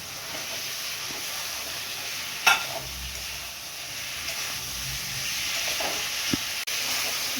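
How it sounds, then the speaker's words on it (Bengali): Ridge gourd goes into a hot pan of spiced masala, giving a steady close hiss and sizzle with soft stirring scrapes, a brief louder burst early on and a sharp clatter near the end. "এবার ঝিঙেটা দিয়ে দিচ্ছি।"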